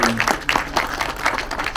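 An audience in a Jakarta cinema applauds, a brief patter of scattered claps at moderate loudness.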